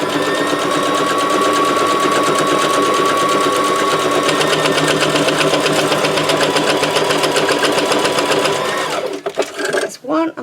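A sewing machine runs a straight stitch down the sides of pockets for a bird-themed junk journal, whirring steadily and close for about nine seconds before slowing and stopping.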